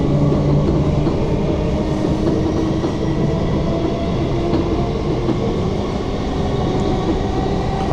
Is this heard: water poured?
no